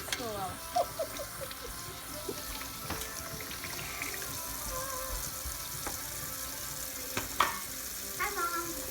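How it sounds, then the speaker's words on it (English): Kitchen sink dishwashing with running tap water, splashing and clinks as dishes are scrubbed with dish soap, a continuous wash of water under scattered small knocks and faint voices. "I'm washing the dishes."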